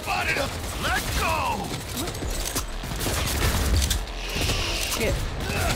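Gunfire bursts from the video game Cyberpunk 2077 crackle in a steady, loud stream with mechanical clatter, while a voice talks over the shooting throughout.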